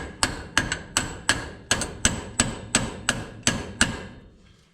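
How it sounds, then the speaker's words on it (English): Eleven sharp metallic hammer strikes at a steady, even pace, each ringing briefly before the next, loud and close with no talking, during a disc brake swap on a 1950 Ford pickup. "Just use your hammer."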